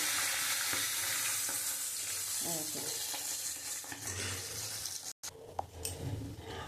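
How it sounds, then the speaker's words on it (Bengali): Tilapia fish frying in hot oil, a steady loud sizzle with occasional clinks and stirring; the hiss briefly cuts out and then resumes a little more softly. "দেখো বন্ধুরা, আমার মাছ ভাজা হয়ে গেছে, এবার আমি তুলে নেব"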